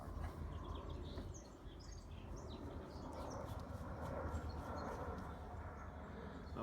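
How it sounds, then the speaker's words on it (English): Birds chirp and call outdoors in a natural setting, faint scattered tweets over a steady broadband background rumble, continuous throughout. "The birds chirping."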